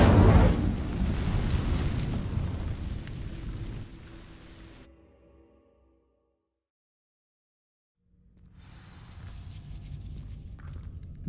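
Incendio fire spell setting dry vines ablaze in Hogwarts Legacy, a loud roaring burst with crackling rumble that fades to silence, then a softer ambient wash returns.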